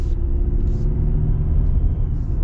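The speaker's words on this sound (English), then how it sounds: "Engine's pretty quiet. I mean, you do hear it." A 2023 Chevy Silverado 1500 engine is heard from inside the cab while driving, a steady low rumble with road noise, subdued and continuous.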